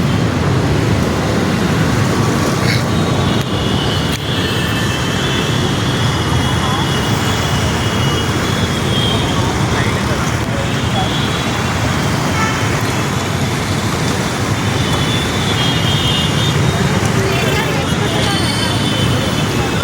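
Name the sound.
road traffic noise in a traffic jam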